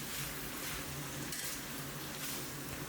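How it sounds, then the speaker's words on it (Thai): Constant hissing sizzle of holy basil leaves stir-frying with pork ribs, with soft scraping and stirring in a pan, close and continuous, with no talking. "เราจะผัด ให้ใบกะเพราสุกนะครับ"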